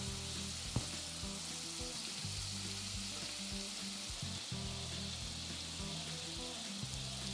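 Onion, garlic and ginger paste fry in hot oil in a pan for a prawn malai curry, a close, steady sizzle broken by a few soft scraping stirs, no voices.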